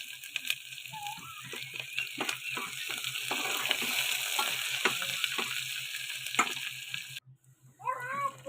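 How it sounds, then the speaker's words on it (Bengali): Onions frying in a pan for egg fried rice, a continuous close sizzle punctuated by scraping stirs, ending in a short pause before a cat meows nearby. "ভালো করে ভাজা হয়ে গেলে পেঁয়াজ দিয়ে ভেজে নেব"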